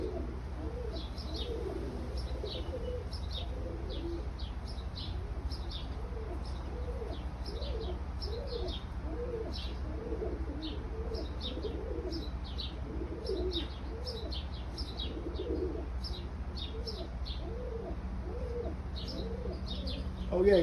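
Pigeons coo steadily in repeated low throaty phrases close by, with light chirps and a faint wing flutter near the end, over a constant background hum and no talking.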